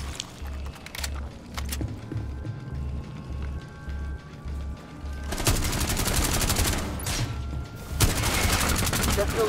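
Rapid automatic gunfire in Tom Clancy's Rainbow Six Extraction, intermittent at first and then heavy sustained bursts in the second half, loud and close over a low pulsing game soundtrack.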